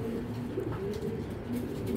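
Soft, steady cooing from a racer pigeon of a foreign bloodline hums low and continuous, close by, over a constant background murmur.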